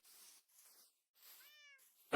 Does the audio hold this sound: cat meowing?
yes